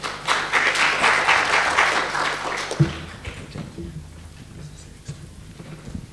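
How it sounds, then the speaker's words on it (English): Audience at a physiology society conference breaks into applause, loud crowd clapping for nearly three seconds before thinning into scattered claps and low room noise with faint talk. "Please give a round of applause for"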